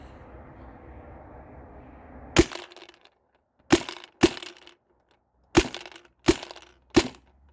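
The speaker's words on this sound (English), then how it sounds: "I only loaded a few rounds in this, but I'll keep firing." A Tippmann A5 paintball marker fires six sharp, loud cracks at uneven intervals. A low background hum runs before the first shot, then silence falls between the later shots.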